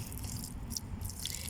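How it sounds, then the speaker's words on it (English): Water poured onto young squash plants in an urban nursery, a soft continuous trickle and splash at close range with no talking. "Let's water this."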